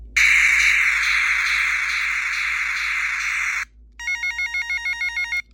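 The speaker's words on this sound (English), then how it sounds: "That one sounds like a telephone ringing." Electronic telephone-ring sound effect from a 1989 Executor keychain: a loud, continuous buzzing warble for several seconds, then a rapid pulsing ring in short repeated bursts.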